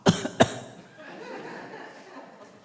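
Two sharp imitated coughs in quick succession, close and loud, followed by quiet breathy murmuring that fades out.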